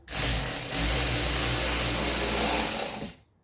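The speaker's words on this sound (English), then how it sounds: "This is my power ratchet." Power ratchet whirring steadily for about three seconds as it drives a screw while a TV is mounted, a continuous close mechanical buzz that stops abruptly.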